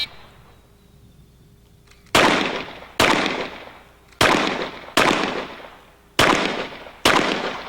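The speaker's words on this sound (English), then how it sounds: "Nice, steady, accurate shooting." Pistol gunfire at an IDPA shooting match, six sharp close shots spaced about a second apart after a quiet start, each with a short decaying echo.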